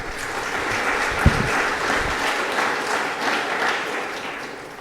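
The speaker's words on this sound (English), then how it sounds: "can we give them a round of applause as well?" Steady applause from an audience at a city's State of the City address, a dense wash of clapping that holds at an even level throughout with one sharper clap near the start.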